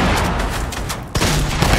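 Gunfire in an online shooter video game, with a heavy sniper-rifle report cutting through a dense, loud wash of game noise and explosions, a sharp boom landing partway through.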